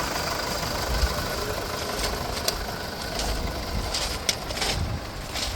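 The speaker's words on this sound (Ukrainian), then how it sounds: "Двигун працює ідеально." A 2017 Mercedes-Benz Sprinter van diesel engine idles nearby with a steady low clatter and rumble, small knocks ticking through the continuous drone.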